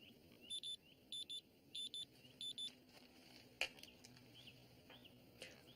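A pager beeps in quick repeated bursts, four short pairs of high electronic tones, fairly faint over a quiet room with a few soft knocks and rustles afterward.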